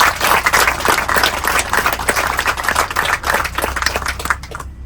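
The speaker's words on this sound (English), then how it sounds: "if we could just give Miss Albanese and the commissioners here a round of applause for getting us here." A crowd at an outdoor groundbreaking ceremony for a new library gives a round of applause, with close, loud, crackling claps that fade out at the end.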